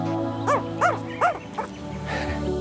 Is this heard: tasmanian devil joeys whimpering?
yes